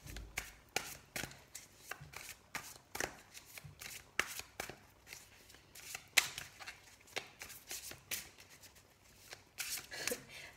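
Tarot cards being shuffled by hand, a steady run of crisp riffling slaps and flutters close to the mic across the whole stretch, with no talk over it.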